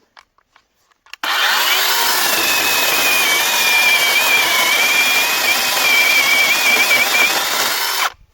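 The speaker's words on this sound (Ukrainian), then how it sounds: "Спробуємо, як ріжеться пилочка з 4-амперним акумулятором від ProCraft." Procraft PKA42Li cordless chainsaw running on a 4 Ah battery, cutting through a log about 12 cm across: a loud, steady whine and rasp of the chain that starts abruptly, holds for about seven seconds, then stops.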